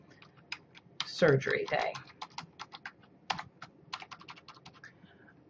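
Keys clatter on a computer keyboard as text is typed into a PowerPoint slide text box, a close run of quick, uneven taps, with a brief stretch of talking partway through.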